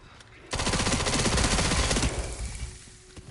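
Sustained bursts of SMG gunfire from the Resident Evil 9 video game erupt loud and close, then drop to scattered shots and quieter game sounds in the closing second.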